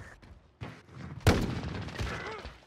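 Video game gunfire sounds as a few sharp shots, with one loud close blast in the middle followed by lingering rumble and scattered smaller reports.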